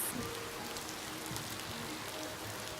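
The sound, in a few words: rain falling in the video game Ova Magica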